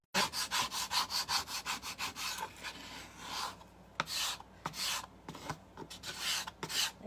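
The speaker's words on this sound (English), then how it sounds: "And then I'm gonna just use the scraper." Scraper drawn across a stencil to clear wet chalk paste, several quick rasping strokes in a row, then a pause and a few slower, separate scrapes, close and fairly quiet.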